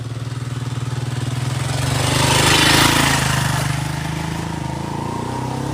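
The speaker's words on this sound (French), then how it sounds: "Attendez, la moto va passer." A motorcycle engine hums steadily, swelling louder as it passes nearby in Cameroon, then easing back to a constant drone; no voices.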